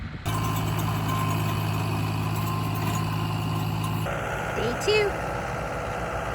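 A tractor engine idles steadily at close range in a field being prepared for native wildflowers, a constant low rumble that drops in pitch partway through, with a brief spoken word over it.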